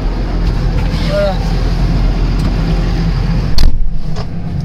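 A tractor engine drones steadily from inside the cab, loud and continuous with a low rumble, during rye mowing on a farm, with a brief louder rattle near the end.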